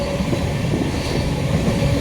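A passenger express train in India runs along the tracks at sunset, giving a steady, loud rumble and rattle from inside the carriage, with no speech.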